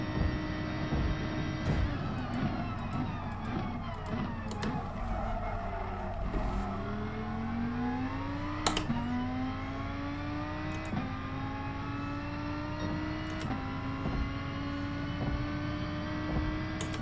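Race car engine lapping a circuit in the racing video game GT Sport, with a steady loud drone that rises in pitch through gears, briefly dips and climbs again with each shift, plus light tire noise, continuous throughout.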